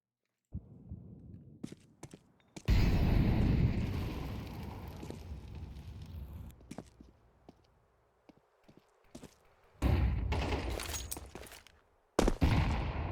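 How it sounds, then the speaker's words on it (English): A grenade explodes in a Counter-Strike match on the Mirage map: a loud, booming burst with a decaying rumble, followed by scattered gunshots and another heavy blast near the end. "Oh, that nade hurts."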